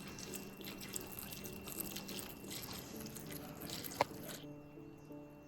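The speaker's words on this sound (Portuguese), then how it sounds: "Rega em abundância até, ó, começar a encher o pratinho." Water pours steadily onto a repotted Philodendron Patriciae until the saucer begins to fill, a soft continuous trickle with light drips and one brief clink, heard up close.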